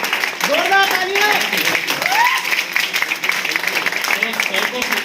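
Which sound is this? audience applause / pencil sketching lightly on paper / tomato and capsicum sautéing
audience applause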